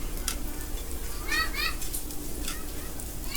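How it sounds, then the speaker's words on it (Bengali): Onion and capsicum frying in a pan for chowmein give a steady close sizzle with faint stirring scrapes, and a voice talks over it. "তারপর এটাকেও কিছুক্ষণ ভেজে নিব।"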